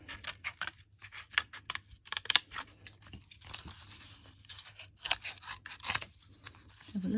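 Scissors snip along a strip of paper for a cutaway folded design, a run of close, crisp, quiet cuts in irregular rhythm with short pauses between.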